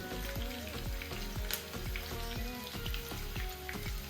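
Mustard seeds crackling in hot oil for dhokla tempering, a soft continuous sizzle with faint popping, heard quietly under a droning tonal background with no talk.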